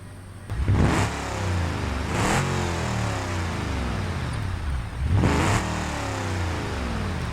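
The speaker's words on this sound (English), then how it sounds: "Without the muffler, it sounds a lot more mean." A 6.9-liter V8 car engine with its muffler removed, in a driving simulation game, revs hard three times with rising and falling surges over a loud, rough idle.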